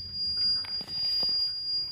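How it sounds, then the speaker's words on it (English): A fuel guard warning alarm sounds on a narrowboat, a steady high electronic tone that runs continuously through the short stretch with low rumbling background underneath. "There's a bit of an alarm going on."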